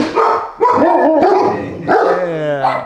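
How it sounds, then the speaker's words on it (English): Several dogs bark and yip excitedly at close range in a busy outdoor setting, the barks overlapping and continuing through most of the moment. "we've got some dogs. Dog's gonna say hi"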